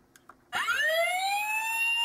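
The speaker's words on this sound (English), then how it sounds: "you get sirens." A Transformers Dark of the Moon Leader Class Sentinel Prime toy sounds its electronic siren, a loud tone that rises and holds steady after two soft clicks of the button.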